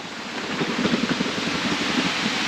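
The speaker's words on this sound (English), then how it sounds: "It's getting windy, so the plastic's really flapping outside." Gusty wind roars steadily with soft irregular flutters and rustles of plastic greenhouse sheeting shaking outdoors, no voices.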